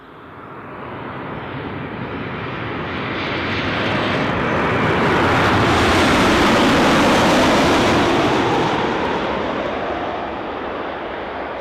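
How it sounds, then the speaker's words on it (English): Fixed-wing airplane passing near Newcastle airport, a loud broadband engine roar that swells toward the middle and stays strong as it goes by, with no talking. "That sounds a lot like a plane."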